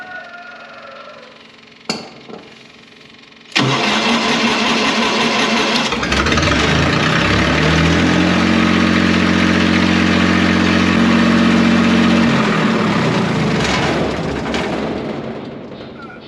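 Irrigation pump engine being cranked with a key: a couple of sharp knocks, then a loud sudden start into a steady rumbling run with a droning tone that rises and holds for several seconds before easing off.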